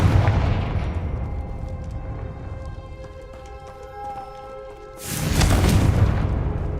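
Confringo fire spell in Hogwarts Legacy bursts in a booming blast, with a loud rumbling eruption near the end after a quieter stretch of ambient tones.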